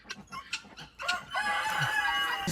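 Chickens at a farm animal sanctuary in the woods, with a rooster crowing loudly and close after a few scattered clucks, the crow rising and then holding for a long stretch.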